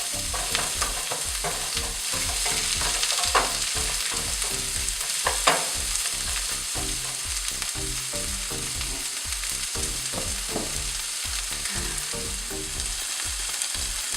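Vegetables saute in a pan for a gluten-free turkey chili, giving a loud, close sizzle broken by repeated scraping and stirring strokes from a spatula, with no voices.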